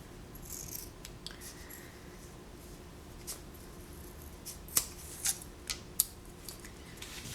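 Scissors snip quietly at thin headband material during bookbinding, a few faint, sparse cuts and small handling sounds spread over a soft, low background hum.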